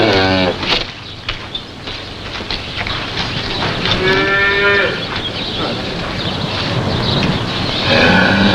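A cow moos several times from a TV drama scene about coaxing a cow to accept her calf, with long drawn-out calls over a busy, noisy background.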